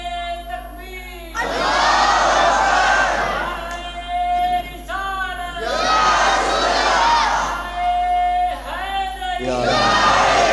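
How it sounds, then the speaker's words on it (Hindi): A large crowd at a religious gathering shouts the Takbir slogan in loud, repeated rhythmic bursts, many voices rising together in waves over about ten seconds. "जरा दोबारा नारे तकबीर"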